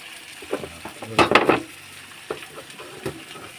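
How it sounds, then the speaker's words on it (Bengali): Chili powder is lightly fried and stirred in a pan, with a soft background sizzle broken by a few close scraping strokes of a utensil against the metal, one cluster louder than the rest. "আর এই হচ্ছে তোমার লঙ্কা গুঁড়ো ঠিক আছে দিয়ে হালকা একটু মেরে নেবো"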